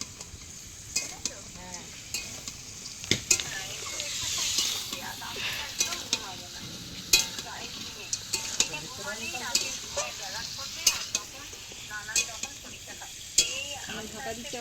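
Small crabs and mixed vegetables fry in a pan for a Bengali crab chorchori, a steady close sizzle broken by repeated scraping stirs and clinks of a spatula against the metal.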